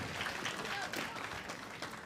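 Crowd applause at the US Open Pickleball Championships, a soft, steady patter of clapping from spectators under faint commentator talk.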